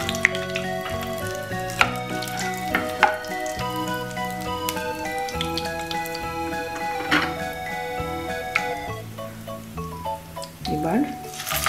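Garam masala spices dropped into a pan while cooking chicken with bean seeds, giving a close crackling sizzle with scattered ticks and pops under continuous background music and speech.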